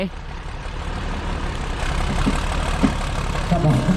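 A tractor engine runs steadily in a muddy field, a loud continuous low rumble with faint knocks and clatter over it throughout.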